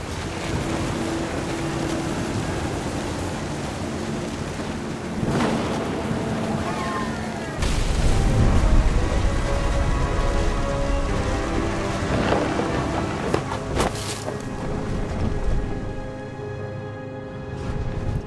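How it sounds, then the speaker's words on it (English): Thunder and heavy rain from a stormy scene in the game What Remains of Edith Finch, a loud dense downpour with rumbling thunder swelling near the middle and sharper cracks later, with music or ambience layered in. "The thunder sounded much too close and full of angry power."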